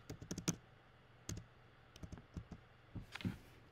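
Keys on a computer keyboard are typed in quick short bursts of crisp clicks with pauses between, close and fairly quiet, while a text label is set up for a Cricut Christmas sign; nobody speaks.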